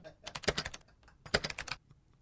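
Rapid typing on a computer keyboard comes in two close bursts of crisp key clicks separated by a short pause, with soft voices talking around the keystrokes.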